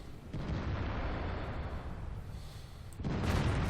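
A tank's main gun booms in World of Tanks, a broad, loud blast that sustains into rumbling, followed by a second heavy report near the end.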